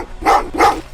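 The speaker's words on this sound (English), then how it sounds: "Well, what's with the dogs?" Dogs barking in the video game Terminator: Resistance, inside a resistance shelter: two sharp, loud barks in quick succession, close by and alone.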